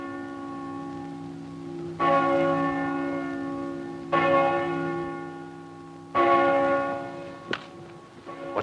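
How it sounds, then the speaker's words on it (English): An old Roman bell ringing the canonical hours, struck three times at even intervals of about two seconds, each clear resonant toll ringing on and slowly decaying, alone and at moderate distance. "It's an old Roman bell brought to Britain by the Emperor Claudius. It rings all the canonical hours."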